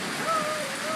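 Hard rain falls during a June thunderstorm, a steady, dense hiss of downpour that lasts the full second.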